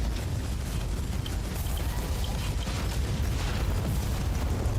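A player character blowing up in Warhammer 40K: Inquisitor - Martyr, heard inside a constant dense roar of combat noise with heavy low rumble and no clear single blast standing apart.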